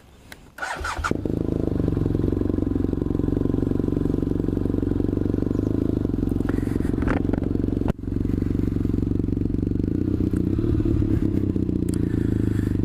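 Powerful high-speed motorcycle capable of over 200 mph, its engine starting with a clatter and then droning steadily and loudly up close throughout, with a brief scrape partway.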